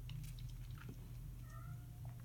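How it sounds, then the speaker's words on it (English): A house cat gives a faint, brief meow or two over a steady low indoor hum, quiet and somewhat distant. "You can probably hear my cat meowing."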